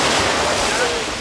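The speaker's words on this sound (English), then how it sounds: "The waves were just grueling." Rough ocean surf at a beach swimsuit photo shoot, a loud continuous roar of breaking waves mixed with wind buffeting the microphone, steady across the short stretch.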